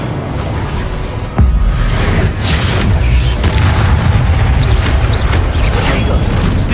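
An Incendio fire spell blasts in Hogwarts Legacy, a sudden deep boom with crackling bursts layered over continuous combat effects and game audio.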